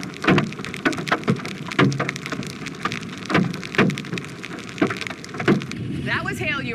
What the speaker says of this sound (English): That was hail you were hearing, and heavy rain